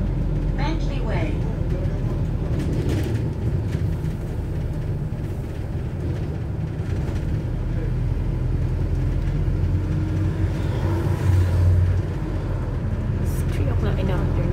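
Steady London street traffic on a cloudy afternoon, a continuous low rumble of engines and passing vehicles with no single bus standing out, and people talking over it throughout.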